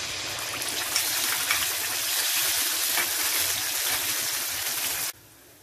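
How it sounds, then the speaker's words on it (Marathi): Tomato puree sizzles and spatters in a hot pan for a Malvani-style prawn and potato curry, a dense continuous frying hiss that cuts off abruptly near the end. "टोमॅटो प्युरी साधारण 1 मिनिट मी परतून घेतलेली आहे"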